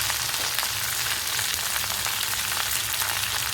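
Curry leaves, onions and green chillies frying in hot oil for poori bhaji, a loud, close, continuous crackling sizzle that holds steady with no talk.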